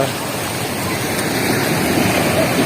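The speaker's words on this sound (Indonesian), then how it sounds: "Ombaknya udah mulai tinggi." Surf waves breaking at a beach in Krui, a steady broad roaring wash of water that stays loud and continuous throughout with no distinct voices.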